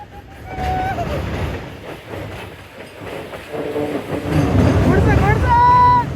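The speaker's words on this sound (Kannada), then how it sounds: "ಕೊನೆಗೂ ಒಂದು ಗೂಡ್ಸ್ ಟ್ರೈನ್ ಬಂದೇ ಬಿಡ್ತು ನೋಡಿ." A goods train rolls past near the Yedakumari railway tunnel, its rumble building toward the end with squealing wheel tones and a horn-like whine rising over the din.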